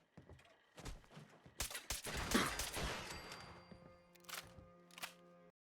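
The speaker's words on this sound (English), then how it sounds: "I'll just shoot him" Gunfire in Fallout 4 during a fight: several sharp, close shots spaced irregularly, with a noisy burst in the middle and a few lighter pops near the end over a faint electronic hum.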